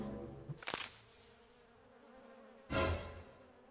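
Bees buzzing in the survival game Starsand, heard as two short, loud bursts of insect drone separated by near-silence, close to the listener.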